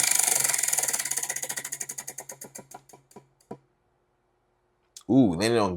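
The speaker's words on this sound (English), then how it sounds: "I will get the Wheel of Fun." A prize wheel is spun and clicks rapidly, the ticks slowing and spreading out over about three seconds until it stops, followed by a pause and then a person starting to talk.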